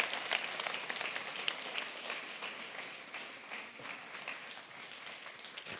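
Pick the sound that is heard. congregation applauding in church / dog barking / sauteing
congregation applauding in church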